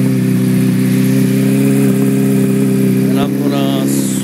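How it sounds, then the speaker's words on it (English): A Honda CBR motorcycle fitted with a Two Brothers exhaust runs close by, a loud steady engine drone that holds near idle with a slight rise and dip toward the end. "let the bike get warm up, and I'm going to rev it up"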